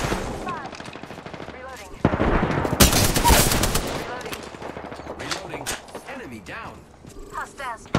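Rapid automatic gunfire and explosive bursts crackle through a video game squad shooter, in loud clustered volleys among sharp game effects, while voices call out over the action.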